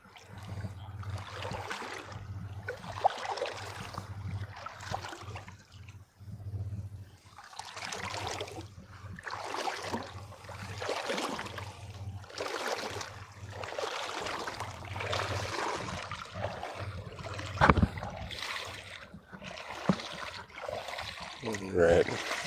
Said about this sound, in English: Hopefully that's not too loud walking through the water